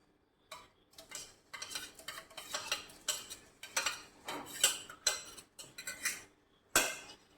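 A spoon scrapes and clinks steadily against a pan while stirring crushed ginger, garlic and green chilli in coconut oil. The bursts come close and fairly quiet, with short pauses between strokes.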